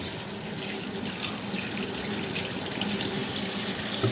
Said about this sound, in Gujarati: બટેકા ધોઈ લીધા છે